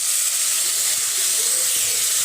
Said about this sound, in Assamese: ৰঙলাওখিনি অলপ ভাজি হৈ গৈছে আৰু এতিয়া ইয়াত মই এড কৰিম পানী।